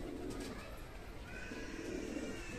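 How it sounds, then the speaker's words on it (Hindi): Jhumka pigeons coo softly and steadily in a loft, a faint low murmuring with no talk over it. "बाड़े वाले कबूतर या झुमके वाले कबूतर"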